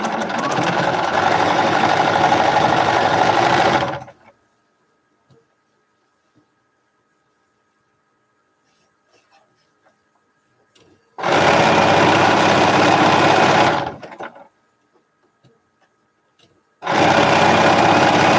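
A sewing machine runs in three loud, close bursts while stitching a seam on a scrap-fabric shoofly quilt block, the first about four seconds long, then a long silent pause before the second and third runs.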